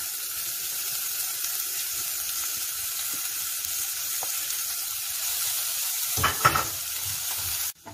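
Onion, bell pepper, small peppers and tomato sauté in oil with a steady close hiss of frying, then a few loud clattering stirs near the end before the sound cuts off; no voices.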